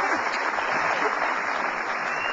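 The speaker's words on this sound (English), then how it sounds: "I think I deserve a round of applause" Studio audience clapping on a television talk show, a steady, even wash of applause filling the whole moment, fairly soft in level, with no talking over it.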